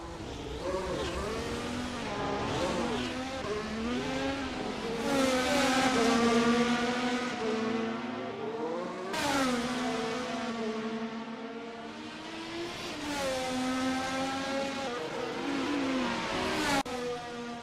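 Race cars at Interlagos in a racing video game roar past in turn, engines climbing through the revs and dropping sharply on each gear change, loud and close, with repeated accelerating passes and no talk.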